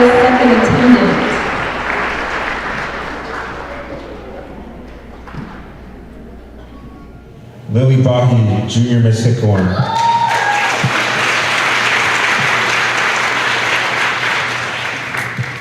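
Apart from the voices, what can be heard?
audience applause at a pageant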